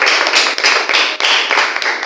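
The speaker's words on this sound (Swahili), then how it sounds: "Pigie Bwana makofi ya sifa na utukufu" A church congregation claps in praise, loud and close, a dense burst of many hands falling into a rough pulsing rhythm with brief dips between waves of clapping.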